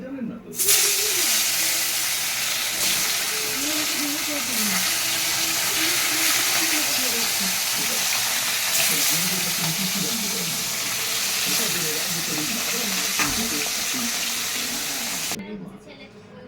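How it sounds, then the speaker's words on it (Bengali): Turmeric-coated pieces of fresh rohu fish fry in hot oil with a loud, continuous hiss and sizzle, while a voice talks faintly underneath. "তেল গরম হয়ে গেছে, এবার মাছগুলো দিয়ে দিই একে একে।"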